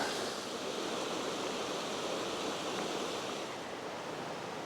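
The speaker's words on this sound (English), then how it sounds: "here's another pretty area of the creek down below right here at the waterfall" Steady rushing water pours continuously, a dense broadband roar with no breaks, from a waterfall on Big Soddy Creek heard up close.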